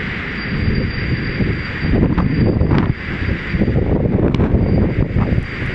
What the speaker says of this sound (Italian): Ecco la tromba d'aria che si è abbattuta sul Crotonese, la seconda in pochi giorni